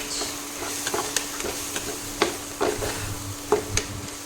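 Ground spices and masala powders such as pepper powder, garam masala and turmeric frying together in a pan, with a steady background sizzle and scattered scraping stir strokes, close and moderately loud, no talking.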